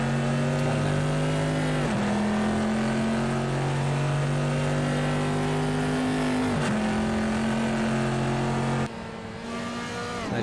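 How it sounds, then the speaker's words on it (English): Stock Ferrari GTLM race car engine sound in a racing video game at Donington Park GP, a loud sustained drone with steady tones that dip and rise through gear shifts, then drop near the end. "I just kept the stock Ferrari sounds."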